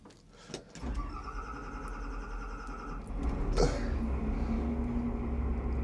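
A boat engine on the waters of the San Juan Islands cranks and catches, settling into a steady, close running rumble that grows louder partway through.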